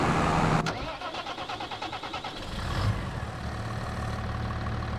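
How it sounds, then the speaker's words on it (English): A tractor engine cranks over with a rapid whirring starter, then catches and settles into a steady low idle in Farming Simulator 25, heard up close. "I do have this tractor also."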